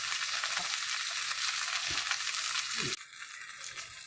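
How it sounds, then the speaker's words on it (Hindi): Chicken fries in a little oil in a pan for homemade chicken mandi, a steady bright sizzle that carries on throughout and drops slightly near the end, with a few soft clinks. "आप इसको दोनों तरफ से फ्राई करके रखें"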